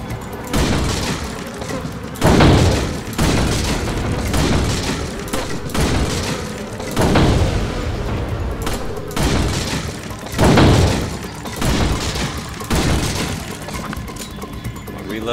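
Repeated gunshots in Resident Evil 4 ring out in loud bursts every few seconds, each a booming blast with a ragged tail, over a continuous bed of game noise and music.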